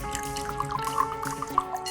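Liquor is poured into a glass indoors, a quick run of light drips and splashes under a soft musical backdrop.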